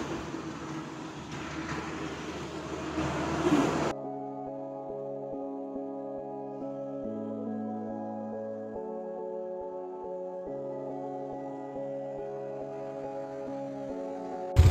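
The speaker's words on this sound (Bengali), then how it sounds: "এরকম একটা ব্রিজ যে গাড়িগুলো আসছে তার আওয়াজ" Vehicles rumble past on a mountain loop bridge, a low droning hum with rising and falling tones after a brief burst of rushing noise at the start.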